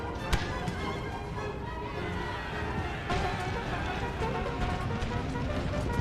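Cavalry horses in Empire: Total War drum steadily in the distance, a dense patter of hooves under a constant battle din, with a brief sharper knock early on.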